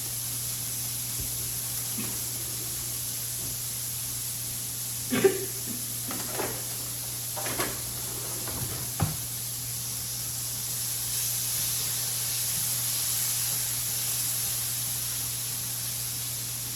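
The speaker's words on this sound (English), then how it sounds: "Saute up a little bit." Chicken sautéing in a pan for smothered chicken, a steady broad sizzle and hiss running throughout at moderate level, with a few faint clinks and brief sounds scattered over it.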